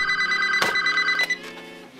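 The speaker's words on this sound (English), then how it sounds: "When the phone rang that afternoon, I had a feeling that I might regret picking it up." An indoor telephone rings with a steady electronic trill, close and clear, with a couple of soft clicks during the ring and no voices.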